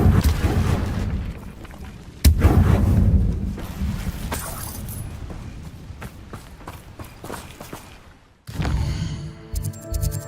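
Incendio fire spell cast in the video game Hogwarts Legacy: a sudden loud burst with a whooshing, crackling flare that fades, followed by further impacts and a second rush of effects near the end.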